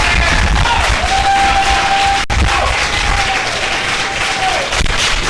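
Home crowd applauding at a 2013 Cape Coral city forum, sustained loud clapping and cheering from a room of people, with a single sharp thump partway through.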